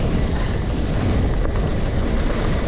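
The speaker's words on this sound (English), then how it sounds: "It's a bit windy across here about this bit." Strong wind buffets the microphone while cycling the Trans Pennine Trail between Hornsea and New Ellerby, a steady, rumbling roar that lasts throughout, with no voices.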